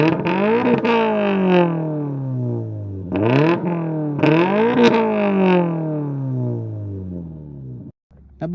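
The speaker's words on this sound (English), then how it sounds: "This particular 86 has a AWE Track Edition catback," Toyota GR86 fitted with an AWE Track Edition catback exhaust revs hard, with several rising and falling sweeps of a loud, close engine note, then cuts out briefly near the end.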